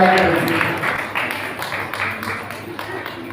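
Applause rises from a crowd at a free legal aid mega camp in Thakurgangti as a woman receives a 20 lakh rupee double cheque, steady clapping running under a voice over a loudspeaker.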